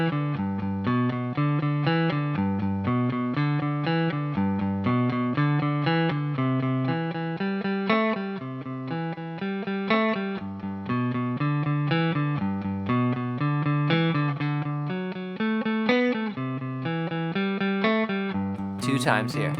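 Electric guitar plays a driving G-position 12-bar blues riff, steady repeating rhythm with slightly distorted, effected tone, loud and continuous, ending on a brief scrape.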